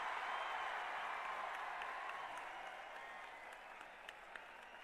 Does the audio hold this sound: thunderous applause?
yes